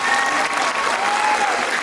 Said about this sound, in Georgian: აპლოდისმენტები თუ შეიძლება